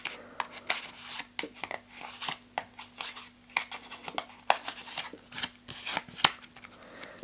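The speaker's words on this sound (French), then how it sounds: "Je secoue tout ça." Playing cards are shuffled and shaken by hand in a magic trick, a run of quick, crisp riffling snaps and rustles, close and alone with no talk.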